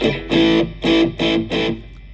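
Distorted electric guitar played through a Cube Baby Pro amp with reverb switched on, four loud strummed chords in steady succession, each ringing out and trailing into a short reverb tail, with no talking.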